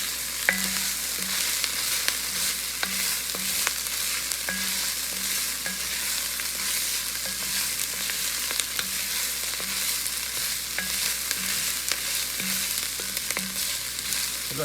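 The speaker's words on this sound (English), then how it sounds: "So now I'm going to add the garlic. And just give that a stir for about 30 seconds or so." Garlic fries in a soup pot for minestrone while being stirred, a constant close sizzle broken by soft scraping and stirring movements, with no voices.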